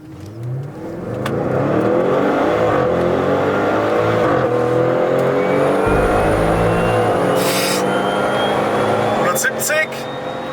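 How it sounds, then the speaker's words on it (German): A 1000 PS Abt Audi RS6-E hybrid accelerates hard on its combustion engine, a loud, sustained engine roar climbing steadily in pitch through the gears, heard close with brief voices underneath. "Vorher beschleunigen wir ganz normal mit Verbrennungsmotor."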